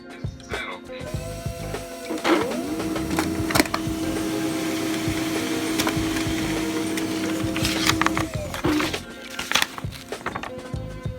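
A printer running off an art piece, a perspective drawing, giving a steady mechanical whir with scattered clicks and knocks for several seconds, fairly loud and close.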